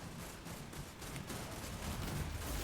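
Ratling guns in Total War Warhammer 2 fire in a sustained, dense crackle of rapid gunfire, a steady wash of shots that holds throughout at a fairly quiet level.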